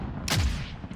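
A single sharp sniper rifle shot cracks out in a first-person shooter on a dark map, a loud close blast with a short booming tail that fades within half a second.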